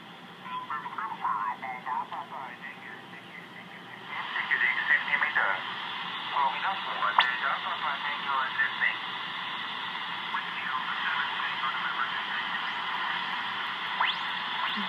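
Single-sideband voice stations on the 15-meter amateur band come through a Hallicrafters SX101 receiver as garbled, pitch-shifted speech over a steady hiss of static, moderately loud and continuous.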